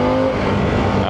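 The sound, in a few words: Harley-Davidson Pan America motorcycle engine revving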